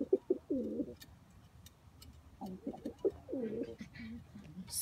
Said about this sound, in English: so now we have 6 pigeons here